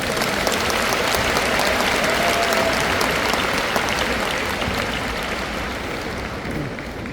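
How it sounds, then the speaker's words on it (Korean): A large church assembly at an anniversary gathering applauds to welcome a pastor to the stage, with thick, sustained clapping that holds steady and eases slightly toward the end. "박수로 맞이하십시오"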